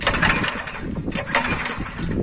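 Kaan 26S tiller engine starting up and running on an empty plot, a steady loud mechanical drone with uneven surges, close by and alone.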